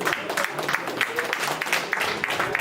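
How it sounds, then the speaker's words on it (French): An indoor audience at a disability solidarity event claps in a moderate, uneven patter, with a voice speaking over the applause. "Applaudissez pour elle."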